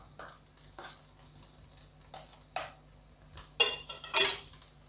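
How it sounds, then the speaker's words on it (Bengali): A metal ladle scrapes jeera pulao off a cooking spatula in a home kitchen, giving a few separate soft metallic taps followed by two louder, sharper clinking scrapes near the end, close and without talk. "আমার খুন্তির ওপরে যেটুকু পোলাও লেগে আছে সেটা একটু ছাড়িয়ে দিলাম হাতা দিয়ে।"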